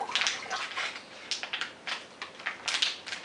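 Water squeezed from a Sawyer SP181 filter pouch splashes into a receptacle, making a continuous close trickle and spatter with irregular surges and drips and no voices.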